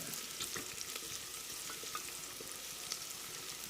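Grated coconut and chopped shallots fry in hot oil in a cooker pot. They are stirred, giving a steady, close sizzle with small crackles and scraping taps throughout and no voices.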